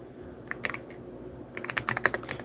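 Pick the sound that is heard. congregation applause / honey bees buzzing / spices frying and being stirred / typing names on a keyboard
typing names on a keyboard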